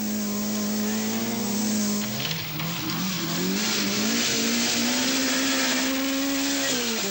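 A small Peugeot rally car screams downhill on a forest stage of the 1985 Welsh Rally, its engine note loud, close and sustained, dipping briefly as the driver lifts off before climbing again under full throttle.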